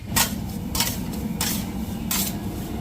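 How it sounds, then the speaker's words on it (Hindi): Sesame seeds are roasted in a kadhai while revdi is being made, with scraping, rasping strokes of a metal tool against the pan coming in four bursts over a steady low rumble, close up and without talk. "ये तिल भी कढ़ाई पे रख दिया गया है क्योंकि हल्का सा तिल को गर्म कर दिया जाएगा"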